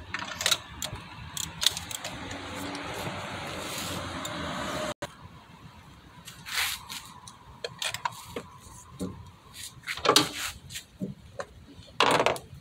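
Bolts being loosened one at a time on a Nissan engine during a misfire repair, with scattered clicking and ratcheting tool sounds, some louder close bursts, and a steady background hum through the first few seconds.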